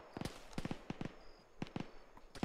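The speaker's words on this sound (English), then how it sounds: "We're taking a lot of fire, but I don't see anything" Gunfire in the military game ArmA 3, quiet scattered bursts of sharp cracks in irregular clusters, some paired in quick succession, sounding distant, with no voices over them.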